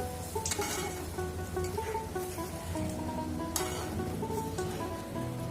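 Spice paste fries in oil for a prawn curry, a soft steady sizzle with occasional clinks of a spoon against the pan, fairly quiet and continuous with no speech.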